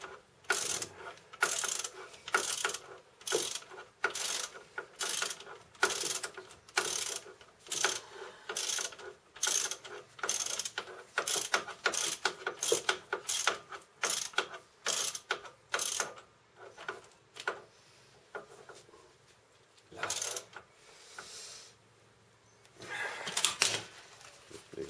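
A hand ratchet clicks repeatedly as it tightens the brake caliper bolts on a Renault Clio 2, with rhythmic bursts of sharp, close clicking that pause briefly between strokes.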